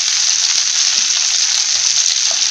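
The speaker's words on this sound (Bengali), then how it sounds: "মাখনের মধ্যে পনিরটা ভেজে নেই।" Paneer sizzles steadily in hot butter in a pan: a loud, even crackling hiss that holds without pause from start to finish and has no voices over it.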